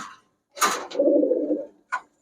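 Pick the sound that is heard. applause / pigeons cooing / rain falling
pigeons cooing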